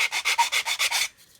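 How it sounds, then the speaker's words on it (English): A plastic model kit part sanded gently by hand, about eight short rhythmic rasping strokes close up, then fading to quiet at the end. "I'm just gently sanding."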